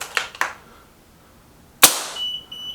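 Two sharp shots from a Remington Vought air rifle firing Diablo Air Arms pellets, one faint near the start and a loud crisp crack later, each with a short metallic ring trailing off, no voices.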